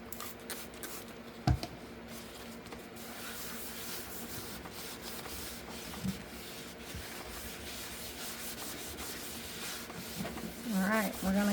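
Sandpaper rubs across a cured epoxy resin tray with pressed flowers, a steady soft rasping scrape with a few sharp knocks and handling noises, fairly close, no speech.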